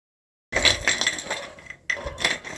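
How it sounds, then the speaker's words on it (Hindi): Crispy almond chikki brittle snapping apart, two sharp, close cracks with crumbly crackling after each, separated by a short pause in otherwise quiet surroundings. "देख रहे हो कैसे ये टूट रही है ना, बिल्कुल क्रिस्पी करारी बनी है"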